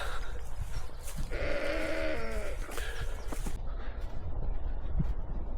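Sheep and young lambs bleating on a farm, with a wavering bleat near the middle and a couple of shorter calls, moderately close over steady outdoor background noise and faint shuffling.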